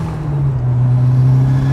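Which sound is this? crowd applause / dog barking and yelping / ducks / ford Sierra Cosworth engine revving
ford Sierra Cosworth engine revving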